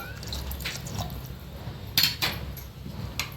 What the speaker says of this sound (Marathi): अजून थोडं पाणी टाकून घेऊयात